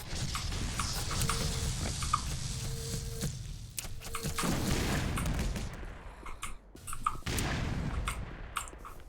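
Grenades in the Black Mesa shooter game go off in repeated booms, mixed with rapid gunfire cracks and clattering, loud and close, in a dense, chaotic stretch of combat.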